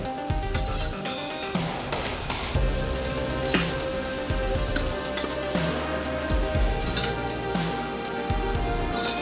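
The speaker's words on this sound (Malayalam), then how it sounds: "എന്നിട്ട് നന്നായിട്ടൊന്ന് വഴറ്റിയെടുക്കാം" Onion and green chillies sautéing in a pan, a steady close sizzle with intermittent clinks and scrapes of stirring, continuous and moderately loud, with no talk.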